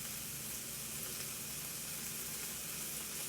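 Sausages sautéing in a pan with caramelized onion butter give a loud, dense, steady sizzle with a constant crackle and no pauses.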